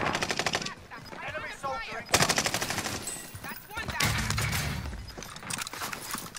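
Rapid automatic gunfire in a Resurgence Trios battle royale match, dense rattling bursts and cracking shots in several volleys, with a voice talking between them.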